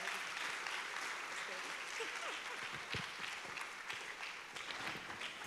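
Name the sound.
audience applause welcoming the host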